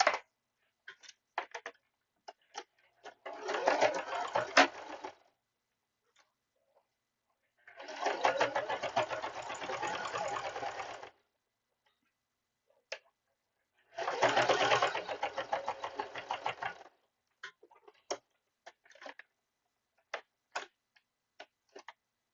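A sewing machine top-stitches around the edge of a fabric piece in three separate runs of rapid, close mechanical stitching, with quiet pauses and scattered light clicks between them.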